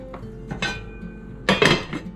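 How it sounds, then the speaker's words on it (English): A lid goes onto a pot of tamale pie with a few bright metallic clinks and clatters, ending in a louder cluster of knocks as it settles, with no talking. "I'm gonna put a lid on it."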